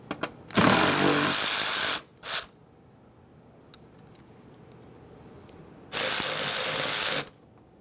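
A ratchet spins off 10mm nuts from a Ford F-150 rear door panel in two loud, rapid clicking bursts with a short burst between them, and quiet gaps of faint handling noise in between.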